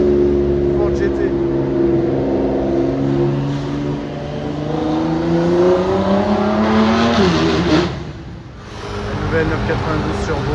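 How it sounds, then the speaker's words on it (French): A Ford GT sports car passing in a city street, its engine note droning with layered rising harmonics that sweep upward as it accelerates, dip briefly, then return, fairly near and loud; some voices can be heard in the background. "Oh là là, Ford GT."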